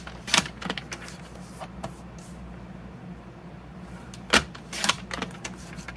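A paper trimmer slices along the edges of a cardstock piece for a craft box project: a few short, crisp swishing cuts near the start and again near the end, separated by quiet room tone.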